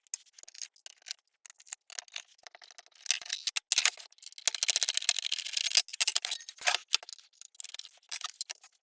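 Screws come out of the metal case of a VGA to composite converter, with quick ratcheting clicks and small metallic rattles from a screwdriver in irregular close bursts.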